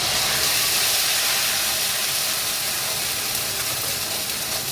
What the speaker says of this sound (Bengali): এর মধ্যে দিয়ে দিচ্ছি দুটো বড় সাইজের পেঁয়াজ বাটা,